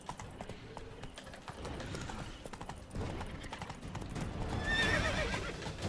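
In The Witcher 3: Blood and Wine, a horse gallops with rapid rhythmic hoofbeats that build in loudness, then whinnies near the end.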